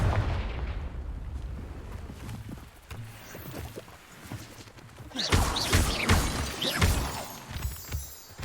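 A Confringo fire spell in Hogwarts Legacy on PS5 bursts into a series of crackling, booming blasts with debris clatter, rising in intensity in the second half after quieter rumbling game ambience, with no talk over it.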